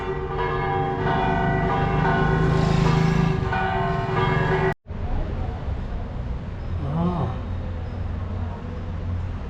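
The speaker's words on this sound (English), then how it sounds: "Orthodox bells." Orthodox church bells in Tirana, Albania ring out with sustained tolling tones over distant traffic noise, continuing after a brief cut in the middle.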